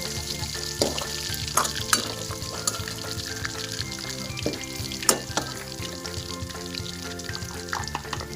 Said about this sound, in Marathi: अद्रक लसूण टाकून घेऊया। गोल्डन ब्राउन कलर होईपर्यंत आपल्याला